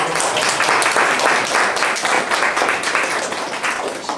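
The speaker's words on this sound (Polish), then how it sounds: "Wielkie brawa dla Pana" Dense, loud applause from a gallery audience at an exhibition opening for Copernicus's 547th birthday in Olsztyn continues steadily throughout the clip.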